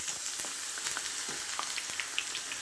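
Bitter gourd frying in a pan, a steady bright sizzle with scattered small pops and crackles, close and fairly quiet, with no voices.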